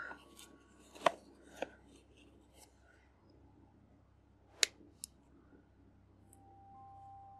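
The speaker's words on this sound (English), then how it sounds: "I'm going to take some scissors and cut out that X." A few sharp, crisp scissor snips close by, cutting out a shape in bead embroidery material, spaced irregularly over a quiet background, with a faint tone at the start and end.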